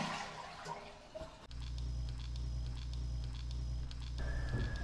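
A bathroom toilet flushes nearby: after some faint clinks, water rushes and gurgles in a steady, rumbling flow that continues to the end.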